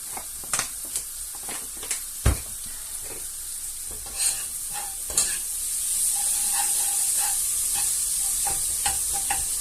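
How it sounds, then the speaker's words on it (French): Onions cooked with a little sugar sizzle and caramelize in a pan, a steady bright frying hiss broken by stirring clicks and scrapes, close and continuous with no talk. "comme ça les oignons vont caraméliser."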